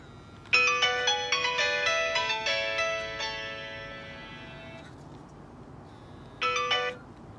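Bright electronic melody from the small speaker of a Nokia E61 phone, a quick run of tones that fades out, then a brief burst of the tune again.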